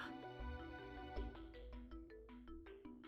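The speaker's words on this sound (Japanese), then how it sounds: "今のメールの着信でコンプのトップメニューにチーム編成っていうのが追加されたみたいなんだ。" An incoming email notification tone from the video game Devil Survivor Overclocked plays as a bright, chiming melodic ringtone of quick repeated notes over a soft sustained backing, quiet and steady.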